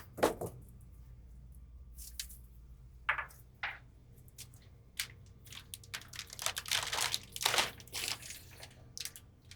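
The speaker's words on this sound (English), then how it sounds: "Take this out of the plastic." Plastic wrapping on a Shure SBRC battery charger crinkles and crackles in scattered bursts, close and fairly quiet, with a brief rustle at the start and denser handling near the end.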